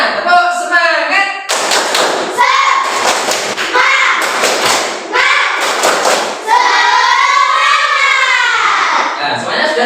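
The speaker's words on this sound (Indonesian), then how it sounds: "Semuanya, tepuk semangat." A classroom of children performing a rhythmic clapping cheer, loud patterned claps and thumps in quick bursts mixed with children's chanting voices, close and energetic.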